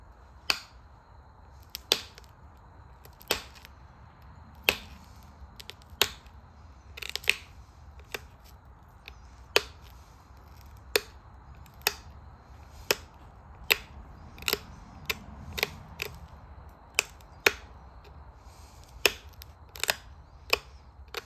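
Sharp clicking taps of a stone Folsom point being beveled by flintknapping from landscape gravel, about two dozen crisp strikes at an irregular rhythm over quiet background, close and fairly loud.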